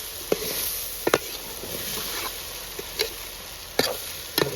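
Chili powder from fresh Guntur chillies is stirred into mutton beja frying in a pan in a village kitchen, with a steady sizzle broken by several sharp scraping clacks of the spoon, close up and without talk.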